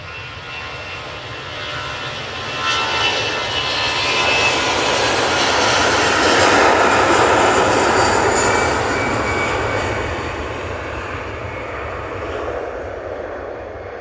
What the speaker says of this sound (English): Brussels Airline, off to Brussels.